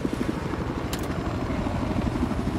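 A-10 jet aircraft passing overhead outdoors, a loud continuous rumbling roar with throbbing low-end pulses that holds steady throughout, no talk.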